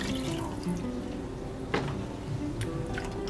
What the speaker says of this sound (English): Now we're going to add in water to cover to help it cook.